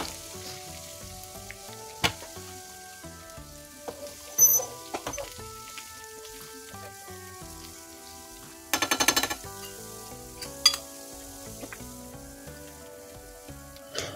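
Mustard seeds, cumin, lentils and garlic fry over low heat in a pan, giving a soft, steady sizzle with scattered pops and a brief burst of crackling midway, with no talking.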